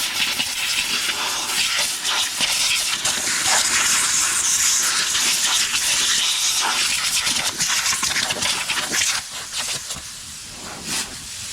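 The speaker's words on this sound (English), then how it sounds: "turn on my compressor and just blow some of the dust out" An air compressor nozzle blowing dust off a removed Ford E-Series van passenger seat, a loud, steady rushing hiss of air that holds for several seconds, eases briefly near the end and returns, with no talk.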